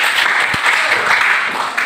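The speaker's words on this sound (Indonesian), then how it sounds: "Tepuk tangan dulu" A classroom of students claps in a continuous, dense patter, close and fairly loud, brief and even throughout.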